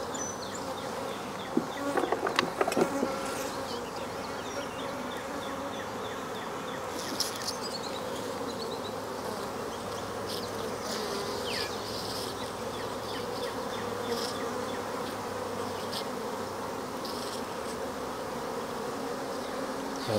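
Honey bees buzz steadily and closely throughout beekeeping work, a dense continuous drone with a few louder passes of individual bees near the microphone.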